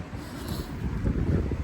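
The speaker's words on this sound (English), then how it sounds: "Sorry about the wind if it's irritating you guys." Wind blows into the microphone outdoors in Volendam, a steady low rumbling buffet that swells louder toward the end, with no voices.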